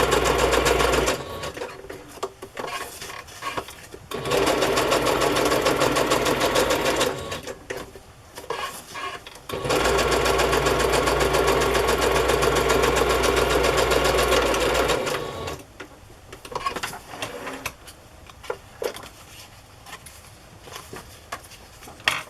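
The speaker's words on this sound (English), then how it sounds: "I'm just going to do nice straight stitching on the border of the photo." Sewing machine running straight stitches around the border of a vintage photo on patterned paper, two long steady buzzing runs of several seconds each with short pauses and quieter handling between them.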